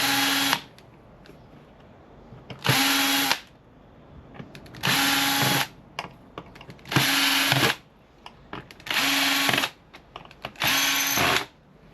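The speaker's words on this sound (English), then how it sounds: "I'll get these screws out because sometimes if you don't take out the screws out of the sockets, they stick." A power driver spins Phillips screws out of scrap electrical switches and sockets, six separate loud whirring bursts of about a second each with short quiet gaps, close by.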